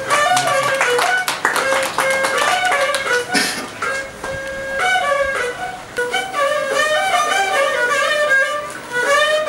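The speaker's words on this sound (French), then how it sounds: "Applaudissez pour ça." An audience applauding at a humanitarian visit to an orphanage, a burst of clapping that mixes with loud music playing throughout.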